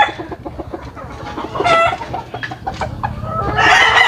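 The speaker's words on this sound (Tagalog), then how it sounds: "Napakagandang inahin po yan." A hen clucks repeatedly up close, a busy run of short throaty calls rising into a louder squawking burst at the end.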